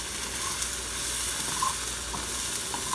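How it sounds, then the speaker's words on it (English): Onions sizzle on a hot grill in a steady, close frying hiss, with faint crackles and pops scattered through the short stretch and no voices. "So I'm gonna keep on grilling this."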